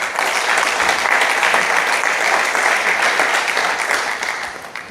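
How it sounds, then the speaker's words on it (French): An audience applauds during the draw ceremony for the Dom Tom Cup 2022 football tournament, a dense, loud, continuous wash of clapping that tapers slightly at the end. "Sous vos applaudissements, s'il vous plaît."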